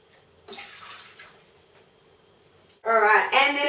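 Four cups of water pour into a medium-sized saucepan in a kitchen, making a bright, splashing rush that starts suddenly and runs loud and close to the end, after quieter faint sounds.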